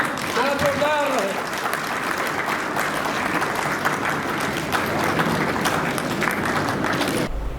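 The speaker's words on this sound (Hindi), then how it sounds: "तालियों क्रम भाई थोड़ा जोरदार रहे।" Steady applause from the audience at a journalist award ceremony in Gorakhpur fills the room, with a brief raised voice early on. The clapping stays dense until it cuts off abruptly near the end.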